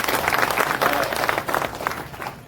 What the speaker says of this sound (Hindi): उन तमाम लोगों के लिए जोरदार तालियां बजाई जाए